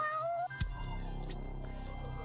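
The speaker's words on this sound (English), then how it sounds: "we can hear it meow to tell us that it's here" A cat in a detective video game gives a rising, drawn-out meow, then a second short mew follows over a steady game music bed, quiet and clear with no talk.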